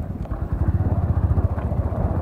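Honda XR motorcycle riding off-road on a rough, potholed track in Khotang, its engine thrumming in a steady, pulsing low rumble, close and loud, with no talk.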